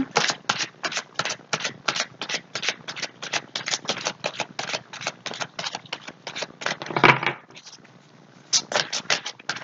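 Tarot cards are shuffled in a brisk run of sharp, rhythmic riffling bursts, close and fairly loud, with a short louder rustle near the end before the shuffling resumes.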